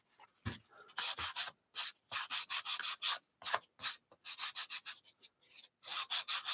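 A small tool fitted with sandpaper rubs over a zine journal page in quick repeated back-and-forth strokes, making close, dry scratchy scrubs in short bursts with brief pauses between them.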